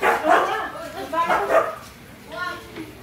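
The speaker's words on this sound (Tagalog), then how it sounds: "Pati ang laki ng aso" A large dog gives a few loud, close barks and yips mixed with speech, coming in short bursts with pauses between.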